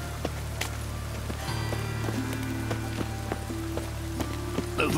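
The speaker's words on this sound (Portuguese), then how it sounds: "Gosto da chuva. Ela mantém os ladrões em casa." Steady rain pattering on surfaces in The Witcher 3 video game, with scattered drips and knocks over a low ambient hum, no voices.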